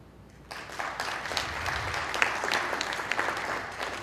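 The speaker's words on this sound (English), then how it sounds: "Show me a sign of applause" An audience at a skeptics' conference lecture breaks into applause after a brief quiet moment, clapping building quickly and continuing as a dense, moderately loud patter to the end.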